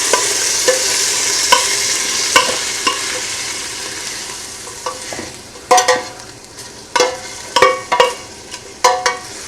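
Pork stew meat sears and sizzles in a pot, with a steady frying hiss under repeated sharp scrapes and clanks of stirring that grow louder and more frequent toward the end.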